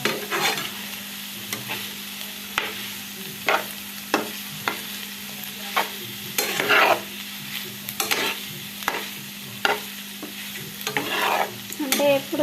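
Salted onions frying in a pan, a soft steady sizzle close by, broken by regular scrapes and taps of a spoon stirring against the metal about once a second, with no one talking.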